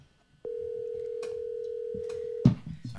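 A telephone call rings through: a single steady ringing tone holds for about two seconds, then cuts off with a clatter and brief muffled noise as the line is picked up.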